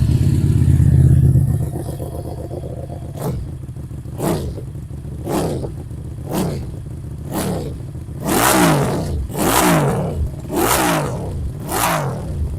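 A QJMotor SRV250 V-twin cruiser motorcycle idles with a low rumble, then its engine is revved repeatedly in short rising blips that grow louder and longer, close and prominent with no talking.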